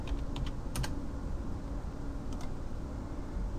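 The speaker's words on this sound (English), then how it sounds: "First thing it's going to make you do is go ahead and type in a security code" Fingers type a security code on a computer keyboard, a few quick key clicks in short bursts near the start and again later, with a steady hum of room noise between.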